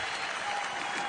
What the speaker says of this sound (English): So please, give him a round of applause as our heavyweight champion of the world.